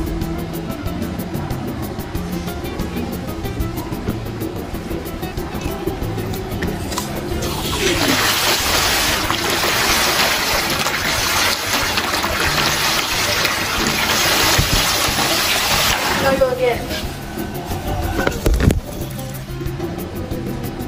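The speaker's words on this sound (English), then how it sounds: "The impeller fill water, it will work again." A VFD water pump in an epoxy-sealed ABS housing starts running again once its impeller refills, a loud rushing, gushing water surge that rises midway and holds before easing off.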